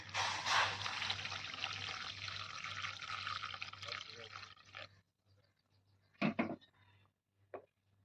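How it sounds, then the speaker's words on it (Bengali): Hot water pours into a pan of Indian fish curry with eel, a steady close splashing gush that stops, followed by a couple of brief drips or clinks, with a low hum underneath. "এবার দিয়ে দেবো কিন্তু পরিমাণ মতন গরম জল।"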